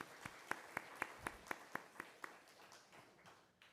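A church congregation gives a short round of applause for newlyweds at a Sunday service, the claps starting sharp and rhythmic, then thinning and fading out over a few seconds.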